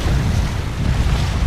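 Strong wind buffets the microphone at a San Francisco Bay shoreline, a dense continuous roar with gusty swells and no voices.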